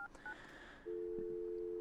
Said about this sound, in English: Now you hear, of course, the phone dialing and stuff like that.